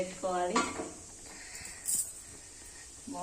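A bowl is set down on a lit gas stove with a couple of clanking knocks, close and fairly quiet, while a person speaks briefly before and after.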